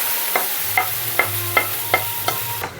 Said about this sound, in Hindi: अब चलिए हम तड़का लगा लेते हैं।